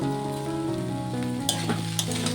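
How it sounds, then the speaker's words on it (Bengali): Radish, potato and bottle-gourd peel fry with prawns in a pan, a close, steady sizzle with light stirring clatters and background music underneath. "সবজিটাকে সুন্দর করে ভেজে নেব"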